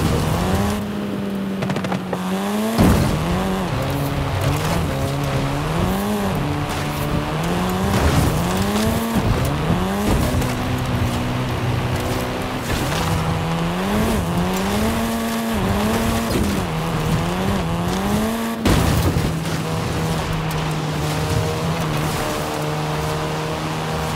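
Race cars screaming through a race in the video game Forza Horizon 5, engines rising and falling through gear shifts with tire squeal, loud and continuous throughout.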